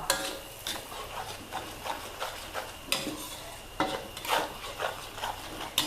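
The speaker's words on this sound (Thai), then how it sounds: "ค่อยๆเจียว เจียวใจเย็น ๆเจียวไปเจียวมาแป๊บเดียวกระเทียมเริ่มมีสีเหลืองแล้วนะ" Garlic fries in oil in a pan over medium-low heat with a pinch of salt, giving a steady soft sizzle broken by repeated scraping and clinking stirring strokes, close and alone.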